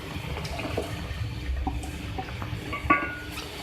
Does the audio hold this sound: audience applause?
no